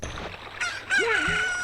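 A rooster crows in The Legend of Zelda: Ocarina of Time, a single rising and falling cock-a-doodle-doo that follows a short cluck and comes in loud and close over faint background music.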